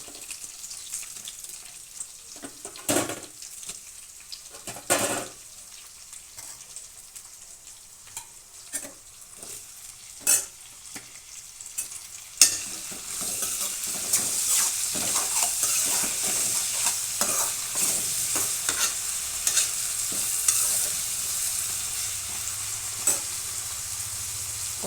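Curry leaves and tomatoes fry in a pan for a baby potato gravy curry, giving a steady close sizzle. Occasional stirring clatters and bumps are heard, and the sizzle grows louder and denser partway through.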